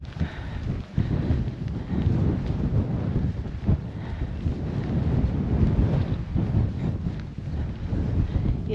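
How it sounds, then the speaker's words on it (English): Strong wind buffets the microphone in a constant low rumble, gusting unevenly, with faint outdoor sounds beneath, on the Camino de Santiago near Atapuerca, Spain. "It's windy again."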